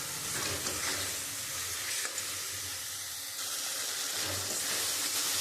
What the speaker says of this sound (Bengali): এই মশলাটা একটু ভালো করে একটু কষিয়ে নেব।